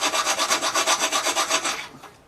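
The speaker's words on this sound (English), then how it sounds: "we need to file a bit of metal away to get the second bolt through" A hand file rasps back and forth on metal to open up a bolt hole on an electric-drill-powered dirt bike build, about a dozen quick, even rhythmic strokes close up before slowing and fading out.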